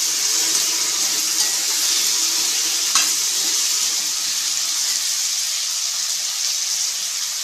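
Brinjal drumstick kara kuzhambu sizzles steadily and loudly in a pan while being stirred, a constant bright frying hiss with a faint scrape of the spoon partway through.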